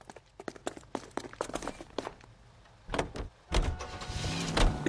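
A car in the video game L.A. Noire: doors thump and clatter amid footsteps, then the engine starts and rises into a steady, growing drive sound near the end, with no speech.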